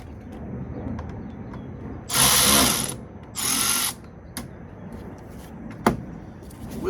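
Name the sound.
ratchet loosening 5/16 snorkel clamps on Chevrolet Tahoe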